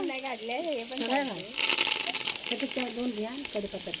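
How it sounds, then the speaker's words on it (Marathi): Garlic and curry leaves sizzle and crackle in hot oil over a wood-fired clay stove, swelling into a louder burst midway, with someone talking over it before and after. "असं फोडणी द्यायला हवी, तडतडायला पाहिजे ती फोडणी"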